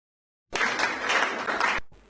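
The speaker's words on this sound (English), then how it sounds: "Please, a round of applause for him." Applause for an awardees' representative at a Crawford University registry training programme, a short burst of clapping from a seated audience that starts abruptly, holds steady for over a second, then cuts off.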